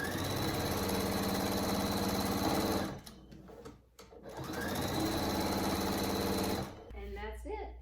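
Sewing machine stitching a half-inch seam around a swaddling receiving blanket: two loud, close, rapid buzzing runs of stitching separated by a brief pause, with a short mechanical clatter at the end.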